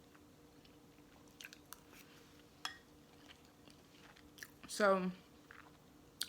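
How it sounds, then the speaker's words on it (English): Someone quietly munches and chews food during a small mukbang meal, with faint scattered crunches and mouth clicks, and a brief spoken word near the end. "sorry, I'm going to be munching on my food."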